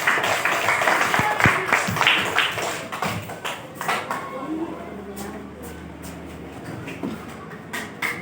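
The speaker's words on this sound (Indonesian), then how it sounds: "Kasih tepuk tangan lagi ya nak." Students in a classroom clap during a lesson on artificial intelligence, a scattered burst of applause that is strongest early on and then thins to sparse taps and faint background noise.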